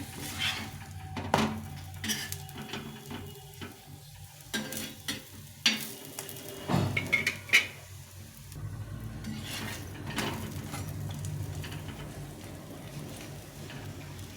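Flour-coated cauliflower fries in oil in a pan, with a continuous sizzle under intermittent scraping and clattering from stirring, loud knocks clustering in the middle.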